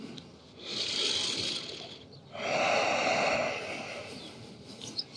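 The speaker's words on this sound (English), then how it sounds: "2 more breaths here" During a yoga child's pose, a person takes two slow, deep breaths close to the mic, a long airy inhale and then a fuller exhale, with no talking.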